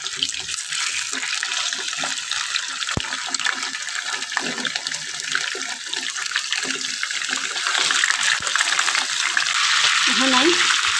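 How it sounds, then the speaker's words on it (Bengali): Chicken pieces sizzle in hot oil for a home-style chicken roast, a steady close crackling hiss throughout that grows slightly louder near the end, with no talking. "এখন একটা চিকেন আস্তে আস্তে তেলে দিয়ে বাজে নিই"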